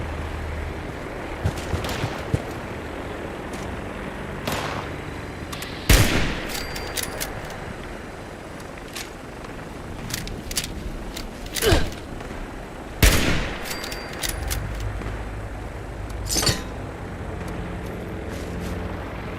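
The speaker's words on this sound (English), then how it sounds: "I run towards the gunfire." Gunfire in the Fallout 76 video game: scattered bursts of shots and sharp single cracks break out over a rumbling game soundscape, some loud and close, others farther off, at uneven intervals.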